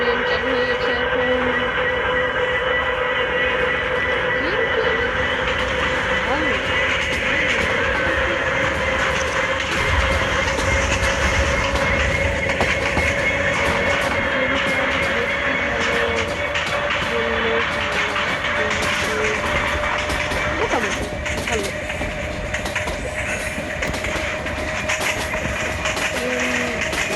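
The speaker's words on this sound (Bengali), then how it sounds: "আমাদের ট্রেন চালু হয়ে গেছে এখন" A train in a Bangladeshi train video game runs with a steady, loud mechanical rumble and rolling drone that holds for almost half a minute, with no one speaking over it.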